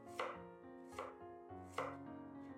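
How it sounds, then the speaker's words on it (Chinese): A knife cuts fresh ginger into thin slices on a cutting board. Three sharp chops land at a steady pace with no talking. "先切薄片"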